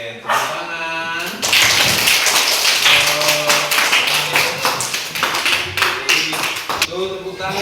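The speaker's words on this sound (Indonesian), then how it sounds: "tepuk tangan kita untuk semua" A classroom of fourth-grade children at an elementary school claps hands together in a rapid, uneven burst of close, sharp slaps, with an adult's voice heard at the start and end.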